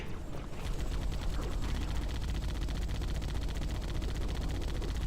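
Sustained turret fire in Halo CE, a loud, dense stream of rapid shots running almost unbroken for about five seconds, with no voices.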